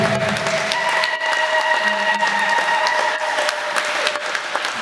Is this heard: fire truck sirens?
no